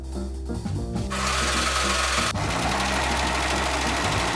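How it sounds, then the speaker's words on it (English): A serger overlocking the frayed edges of horsehair fabric pieces, a loud continuous mechanical whir that starts after a brief hum, speeds up and runs steadily close by. "it frays a lot, so I'm going to serge everything before moving to any more steps"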